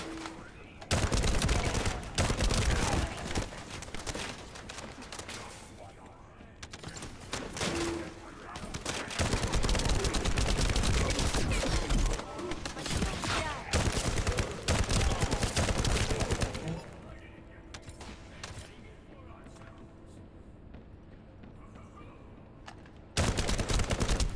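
Sniper gunfire in the shooter video game The First Descendant, heavy bursts of loud shots and fusillade blasts across most of the stretch, easing into a quieter lull before another loud burst at the end.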